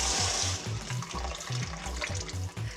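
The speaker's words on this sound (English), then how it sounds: "we need to rinse those out in some salt water. Wash that in there. Give them a little bit of a rub." Food is rinsed and rubbed by hand in a bowl of salt water, a close, continuous sloshing and splashing with rhythmic low swishes throughout.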